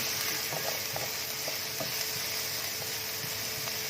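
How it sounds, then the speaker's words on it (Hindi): Onion fries gently in a pan, a soft, steady sizzle with light stirring clicks and scrapes scattered throughout. It is quiet and close, with no talking. "जी तो 1 मिनट हो गया, प्याज हमारा फ्राई हो रहा है।"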